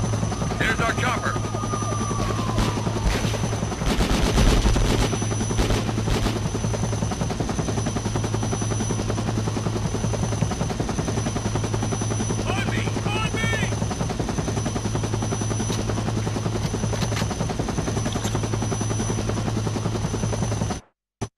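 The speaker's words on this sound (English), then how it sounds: "There's our chopper." A helicopter in the PS2 video game Conflict Global Storm thrums steadily and loudly for the whole stretch, with a brief burst of gunfire-like noise early on and a short electronic sweep near the start.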